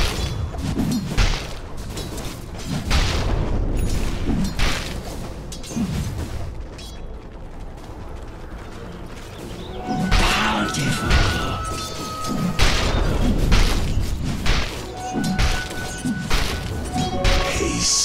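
Towers under attack in a Dota 2 match, with repeated smashing and thudding impacts, booms and mechanical clanks arriving in irregular bursts over continuous game sound.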